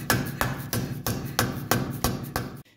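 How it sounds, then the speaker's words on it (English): Rhythmic hammer taps seat a grease dust cover onto the wheel hub of a 1984 Mercedes 300SD, about eight evenly spaced metallic strikes, close and loud, ending abruptly. "And then we'll tap back on the grease dust covers."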